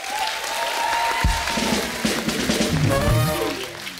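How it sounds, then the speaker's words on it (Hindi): Studio audience applause on a Hindi TV comedy talk show as a guest is welcomed, a dense, steady wash of clapping with music and an announcer's voice running over it. "भाई तालियां हो जाएं"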